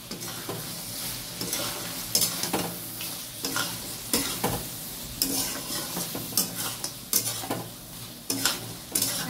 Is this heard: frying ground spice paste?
yes